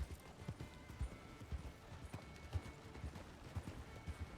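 Horse hooves clip-clopping at a steady walking pace in a video game roleplay set on a trail, roughly two evenly spaced thuds per second, moderately quiet with faint background ambience and no talking.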